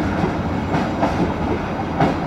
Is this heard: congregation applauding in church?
no